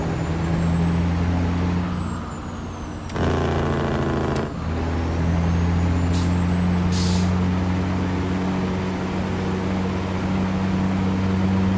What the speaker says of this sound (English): It's so loud, that engine, Jake.